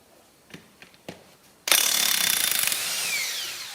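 A battery-powered socket tool works bolts on a Ferguson TE20 tractor belt pulley. A few light clicks come first, then a loud, continuous close mechanical whirring rattle that fades slightly near the end.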